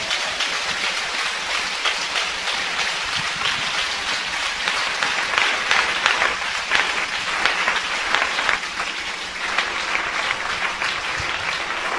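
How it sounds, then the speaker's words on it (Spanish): Sustained applause from a church congregation, a dense, steady wash of many hands clapping throughout, fairly close and even in loudness with no talk over it. "Aplaudan al Señor."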